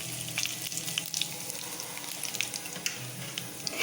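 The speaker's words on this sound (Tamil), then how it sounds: "சோம்பு நுணுக்கி வச்சுருக்கேன், சோம்பை போட்டுக்குவோம்." Crushed fennel seeds frying in hot oil in a pan, a soft, continuous hiss and crackle with a few light stirring taps, faint and close, with no voices.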